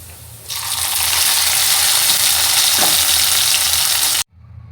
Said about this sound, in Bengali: এখন শাকগুলো বাগার দিয়ে দেব।